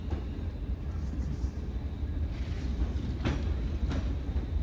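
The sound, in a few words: passenger train at Crewe station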